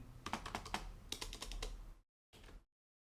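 Clicky keystrokes from the Enter and spacebar keys of a Modecom MC-5003 keyboard in quick bursts, a cluster of presses followed by a short pause and a final burst, close and fairly loud, no voices.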